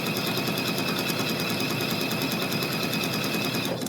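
Sewing machine stitching around the rounded corner of a quilt block, a fast, even mechanical whir with rapid needle ticks, steady and close, running alone until a brief stop at the end.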